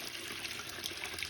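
A plaster of Paris and sand mix is poured into a metal 5-gallon bucket, making a brief, soft, continuous hissing rush with no talk.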